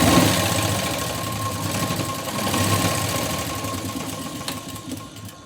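A sewing machine stitches a blouse seam with a continuous rapid mechanical whirring and rattling that holds steady throughout, close and fairly loud, without speech.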